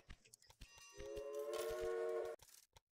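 Trains running on rails in the Railway Empire video game, a brief horn-like tonal blast lasting over a second amid short clicks and rattles, fairly quiet overall.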